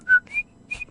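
A 1960s Korean pop song recording carries a clear, close whistled melody of three short notes, the first held slightly longer, with nothing else audible beneath it.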